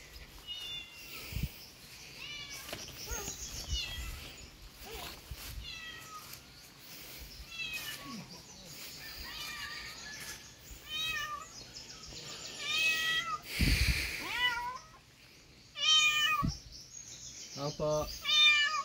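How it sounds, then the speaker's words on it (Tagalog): A cat meows repeatedly through a busy outdoor scene, its calls rising and falling at close to medium range, while people talk intermittently in the background. "Pusa nga."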